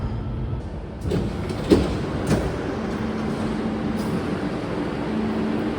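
A Barcelona metro train rumbles along with a steady low roar and a few rattling clacks, fairly close and continuous throughout.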